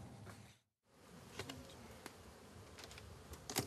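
Honey bees buzz around their hives on a hot summer day, a steady close insect drone with a short silent gap and a few louder bursts near the end.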